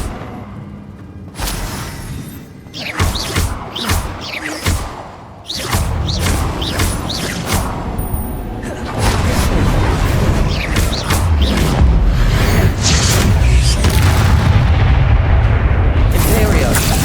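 Bombarda exploding spell in the game Hogwarts Legacy, heavy booms and blasts layered with combat noise and rumbling, loud and dense throughout, with voices calling out over the fight.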